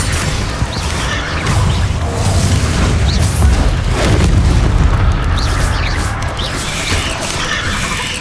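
Spell explosions from the Bombarda curse in Hogwarts Legacy, heavy booming blasts and crashing debris layered over a continuous low rumble, loud and dense throughout.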